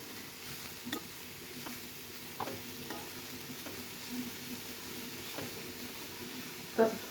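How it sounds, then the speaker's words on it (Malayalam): Faint, steady sizzling of fish frying in a pan, with soft scrapes and clinks at intervals and a sharper clack near the end. "മീനും വറുത്തെടുത്തിട്ടുണ്ട്"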